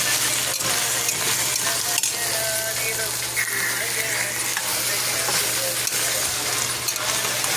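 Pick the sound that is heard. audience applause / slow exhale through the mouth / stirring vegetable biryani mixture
stirring vegetable biryani mixture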